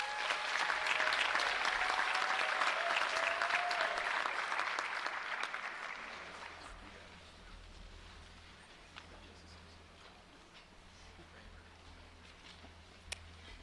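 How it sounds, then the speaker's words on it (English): Loud applause from a crowd at a school district convocation, sustained for several seconds before tapering off into scattered claps and quiet room noise. "Let's give them another round of applause."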